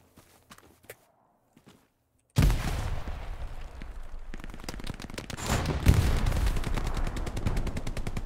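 Rapid bursts of gunfire ring out in the World War II shooter Hell Let Loose, close and loud after a near-silent start broken only by a few small clicks, with rattling shots and echoing reports continuing to the end.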